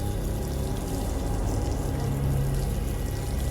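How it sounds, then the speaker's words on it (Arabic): A shower runs in a bathroom, giving a steady, dense hiss and rush of falling water throughout, close and even with no voices over it. "اما خد لي بقى دش"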